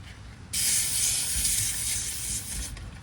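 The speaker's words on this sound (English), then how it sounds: "when we remove that, the only thing that's gonna leak out is whatever is left over in the hose" R410A refrigerant escapes from a home AC charging hose in a sharp, steady hiss that starts abruptly and runs for a couple of seconds before easing off.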